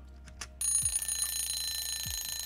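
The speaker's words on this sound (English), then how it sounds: "My 5-minute timer just went off." A five-minute countdown timer alarm cuts in abruptly and keeps sounding, a bright steady electronic ring that holds near and fairly loud over faint background hum.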